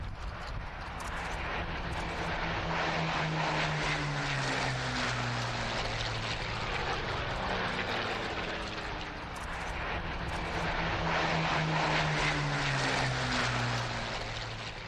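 Four Hawker Hurricane WWII fighters fly past at an airshow, their propeller engines making a continuous loud roar with the droning pitch slowly rising and falling as they pass.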